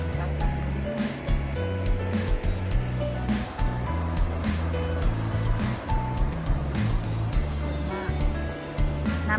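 A long river forming the border between Sweden and Finland flows steadily in autumn, a continuous broad rushing wash of water heard close and loud, with faint voices briefly underneath.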